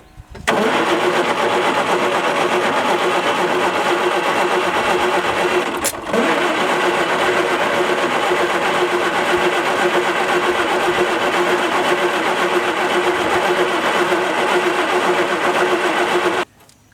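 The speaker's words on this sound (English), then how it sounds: "I just kept kind of playing with it and trying to get that starter to turn over." The engine of an old, rusty Ford skid steer is started and runs as a loud, steady mechanical drone for about sixteen seconds, with one brief dip and sharp click near the middle, then cuts off abruptly.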